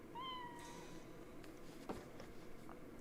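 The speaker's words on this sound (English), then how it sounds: "It's got cute little cat noises too." A pet cat in the online game LOTRO gives one short, soft meow that rises and then falls, followed by faint scattered game sounds and clicks, quiet and without talk.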